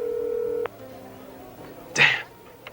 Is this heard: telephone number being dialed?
yes